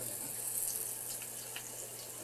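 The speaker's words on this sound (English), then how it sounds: "You hear the bacon sizzling?" Bacon sizzles under an oven broiler with a continuous, faint, even hiss and a few crackly pops scattered through it, and no voices are heard.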